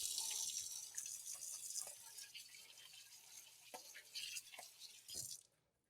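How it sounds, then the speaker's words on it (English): A kitchen tap runs while hands are washed at a sink, a steady broadband water hiss with soft splashes and drips, fairly faint, that stops abruptly near the end. "Let me wash my hands."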